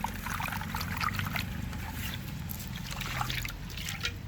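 Water trickles and sloshes steadily while freshly harvested maize from a home kitchen garden is washed by hand, a close, continuous wet splashing with no talk.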